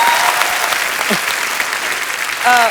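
A studio audience at a comedy talk show applauds for a singer, dense loud clapping filling the whole stretch, with a few brief voices and a short tonal sound cutting through near the end.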